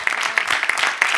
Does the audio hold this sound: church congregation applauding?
yes